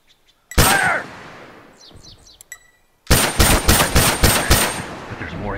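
Rapid automatic gunfire bursts in The Last of Us, a loud volley early on, then a pause with faint chirps before a dense run of regularly spaced, close shots.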